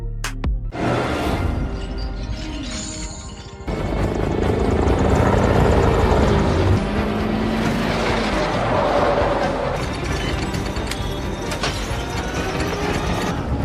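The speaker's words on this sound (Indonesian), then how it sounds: "Brixton membawa Haiti naik ke helikopter tempurnya." Loud combat helicopter rotor thrum with mechanical whine in an action film scene, rising abruptly and staying dense, mixed with clanking and action noise, no talking.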